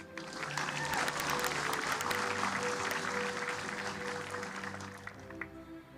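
Steady applause from a large audience at a 2021 commencement ceremony, a dense even wash of clapping that holds for several seconds and then tapers slightly.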